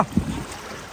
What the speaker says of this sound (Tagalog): Bangka na pala dito.